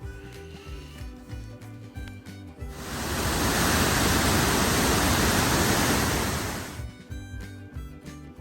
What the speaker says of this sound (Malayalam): ആ പോകുന്ന വഴിക്കുള്ള ഏറ്റവും ക്ലോസ് ആയിട്ടുള്ളൊരു വെള്ളച്ചാട്ടമാണ്. ചീയപ്പാറ വാട്ടർഫോൾസ് ആണത്.